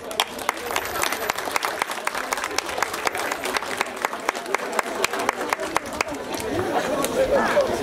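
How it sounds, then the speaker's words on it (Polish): Audience applause at a harvest festival, a dense, steady patter of many hands clapping with occasional sharper claps, sustained throughout with some crowd murmur beneath. "Za to ogromne brawa i wielkie podziękowania."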